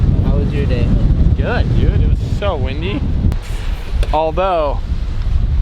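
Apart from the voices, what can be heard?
strong wind blowing against the microphone in a windstorm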